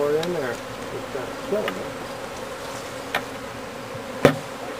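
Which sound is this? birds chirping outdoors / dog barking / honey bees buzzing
honey bees buzzing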